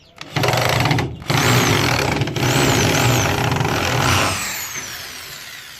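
Power drill driving screws into a wall to mount an exhaust fan in a chicken coop: a loud, close whirring motor in several bursts, with a short break and rising pitch, then winding down at the end.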